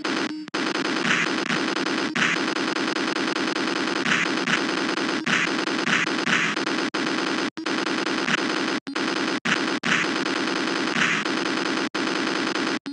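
Rapid-fire shooting effects from the classic Macintosh arcade game Crab Attack, a dense, continuous stream of synthetic bursts with brief gaps, loud and upfront with no talking.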